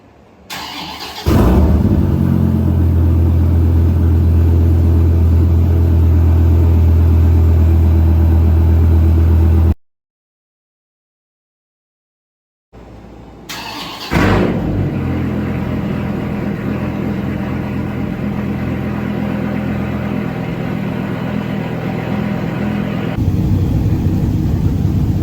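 Dodge Viper with a new exhaust firing up from cold, a loud, deep rumbling start that settles into a heavy idle, cuts out briefly, then restarts and keeps idling close and alone.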